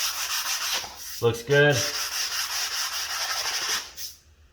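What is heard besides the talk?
sanding grout corners with a sanding block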